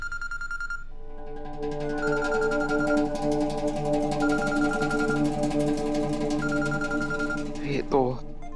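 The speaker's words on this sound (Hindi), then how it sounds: "ये तो छोटे हुकुम का फोन है, उठाना ही होगा।" A phone rings with a repeating electronic ringtone melody, sustained and fairly loud, continuing for several seconds before cutting off near the end with a brief rustle.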